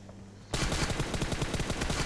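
Rapid automatic gunfire from an M416 or Groza rifle in PUBG Mobile, a loud burst of closely spaced shots starting abruptly after a short quiet moment and continuing steadily to the end.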